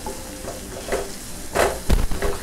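Spice masala fries in hot oil while a spoon stirs it, giving a low sizzle with a few louder scraping stirs, close up, with no talking.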